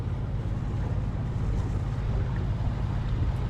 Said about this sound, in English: So the diesel is having fun today.